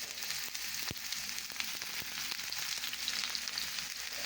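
Onions frying in ghee for a lentil soup, a steady soft sizzle and crackle with occasional sharper pops and stirring knocks, close and fairly quiet with no voices.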